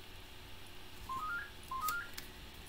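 A telephone rings during a live crafting stream with an electronic ringtone: two quick rising tone sequences in a row, fairly faint over a low room hum.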